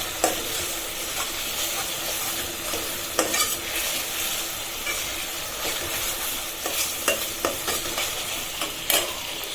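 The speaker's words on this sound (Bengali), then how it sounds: "আমার মাংসের মশলাগুলো ভালোভাবে কষে গেল।" Dry whole spices, onion, garlic, ginger, green chili and tomato are sautéed for a chicken curry, a continuous close sizzle punctuated by repeated clacks and scrapes of a spatula stirring the pan.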